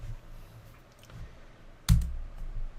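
Code is typed quietly on a computer keyboard: soft, scattered key taps with one sharper, louder click near the end, in an otherwise quiet room.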